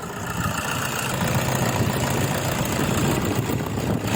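Toyota Hilux 2700cc engine idles steadily after a fan belt change in the desert, a continuous close, loud rumble without obvious squeal or variation.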